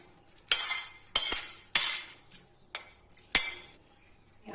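Raw mango, onion, crushed garlic and roasted dried prawns are stirred in a bowl, giving sharp, separate clinks of a utensil against the bowl, about six close knocks with quiet gaps between.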